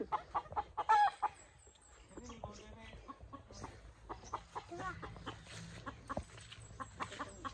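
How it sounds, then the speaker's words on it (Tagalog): Chickens on a farm cluck and squawk in scattered bursts, with a louder call near the start, while people talk quietly nearby over faint outdoor background noise. "Oh, napay manok."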